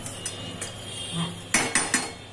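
A metal spoon stirs mugh dal lauki curry in a pot, giving light scraping and several sharp clinks against the pot's side, with the last three strikes loudest and close together.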